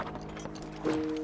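Hooves of Link's horse clip-clop in a Zelda video game, a few soft steady steps mixed under game music and a sustained tone, fairly quiet.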